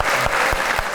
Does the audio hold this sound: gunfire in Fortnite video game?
no